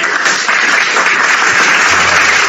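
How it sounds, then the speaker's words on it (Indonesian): Loud, steady applause from a seated congregation at an Indonesian religious talk, continuous clapping from many hands with no speech over it. "Tepuk tangan dulu."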